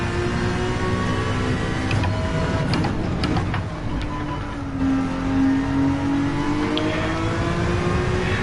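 A Porsche RSR race car engine in Gran Turismo 7, a loud continuous drone rising and falling as the engine revs between gears, with a smooth upward sweep in pitch midway, no talk.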